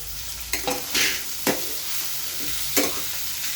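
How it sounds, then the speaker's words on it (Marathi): Potatoes with salt sautéing in a pan, a soft continuous sizzle broken by a few scraping stirs of the spatula at irregular moments. "आणि 2 मिनिटं हे परतून घेते."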